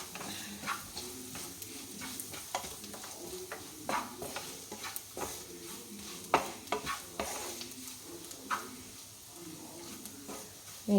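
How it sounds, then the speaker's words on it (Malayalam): Vegetables sautéed with black pepper in a pan for an elambakka (clam) roast, giving a steady close sizzle broken by repeated sharp scrapes and clicks of a spoon stirring against the pan. "കുറച്ച് കുരുമുളക് ഇട്ടിട്ട് നമുക്ക് നന്നായിട്ട് വഴറ്റാം."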